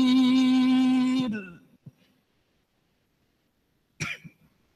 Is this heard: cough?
yes